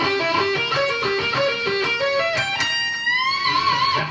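Fast electric guitar diminished arpeggios climb and repeat, ending in a bent, sustained note that slides upward a step and a half.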